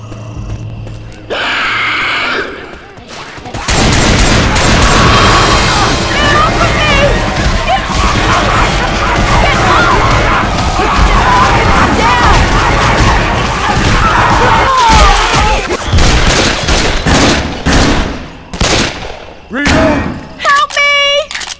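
Dense gunfire and chaotic combat in Left 4 Dead 2, a loud sustained barrage of shots, crashes and thuds, with shouted voices mixed in and brief quieter gaps near the start and end.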